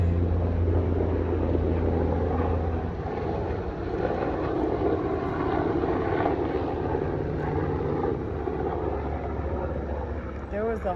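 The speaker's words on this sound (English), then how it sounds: "There's a helicopter passing." A steady engine drone with rotor-like throbbing fills the air throughout, fairly loud and sustained, as an aircraft passes nearby.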